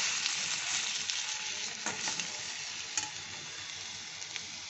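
Eggplant (brinjal) pieces frying in oil in a pan, a steady bright sizzle with occasional crackles and stirring sounds, close and continuous without talk.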